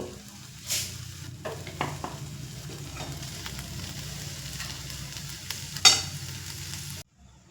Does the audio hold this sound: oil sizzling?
yes